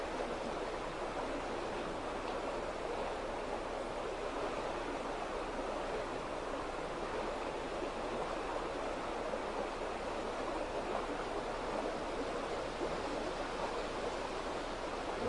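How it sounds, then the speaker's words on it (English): A river flows in a steady, unbroken rush of water, even and moderately loud throughout, with no voices. "The sound of the river is that tone."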